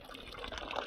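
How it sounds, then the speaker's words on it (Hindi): Cold water running steadily from a tap at a washing spot on a chilly mountain trek near Madhyamaheshwar, a soft continuous trickle and splash heard alone at moderate distance. "भाई पानी ऐसा आ रहा है ना, ऐसा आ रहा है जैसा अभी से फ्रिज से निकाला होगा"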